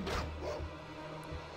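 Wild dog in the Baldur's Gate video game barking and growling, with a loud burst at the start followed by a few lower yaps over steady game ambience.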